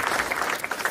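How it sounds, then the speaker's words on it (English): Brief crowd applause at a political rally in Iowa, a close, steady patter of many hands clapping with a few sharper claps standing out. "How about a round of applause for his daughter, everybody?"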